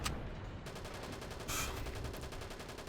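Gunfire from a World War II online shooter game, a steady broadband burst of shots filling the short stretch with one louder report near the middle, moderately loud with no talk over it.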